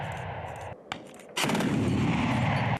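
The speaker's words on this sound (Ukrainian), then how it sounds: "зенітники стріляють по світловій міні" Sharp bursts of anti-aircraft gunfire at a training ground, a few isolated shots followed by a loud sustained rattling barrage close by, aimed at an illumination round standing in for an aircraft, no talking.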